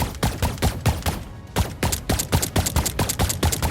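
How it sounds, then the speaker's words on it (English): Rapid punchy gunshots from an FPS template in the video game Dreams, fired in a fast steady burst of about two dozen sharp cracks with a brief pause near the middle, loud and close with no talk. "a more punchy version of Media Molecule's gunshot"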